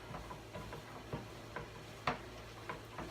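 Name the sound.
vegetables sizzling as they are sauteed in a pan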